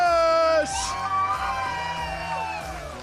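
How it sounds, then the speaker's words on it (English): NASCAR fans at Atlanta Motor Speedway cheering and whooping for a driver, a dense continuous crowd roar with yells rising above it, a loud amplified voice ending at the start. "Fans, a big round of applause for Kyle Rowdy Busch."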